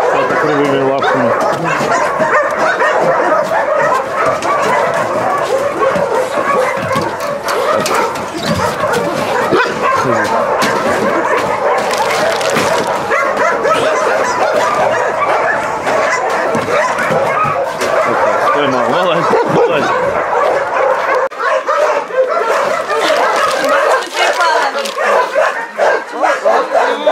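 Dogs at an animal shelter bark, yip and whimper almost continuously, fairly close and loud, with people talking over them throughout.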